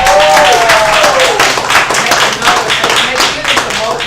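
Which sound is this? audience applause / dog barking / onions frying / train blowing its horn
audience applause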